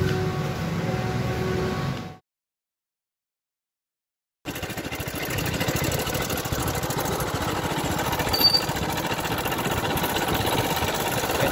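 An old motorbike engine runs steadily close by, a continuous rough drone that cuts out for about two seconds of silence and then resumes at the same level.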